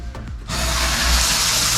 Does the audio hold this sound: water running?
yes